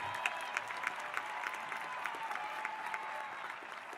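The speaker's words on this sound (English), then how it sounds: "please give a nice round of applause for all in attendance this evening" A crowd at a high school commencement applauds steadily at a distance, a dense patter of many hands clapping at an even, moderate level throughout.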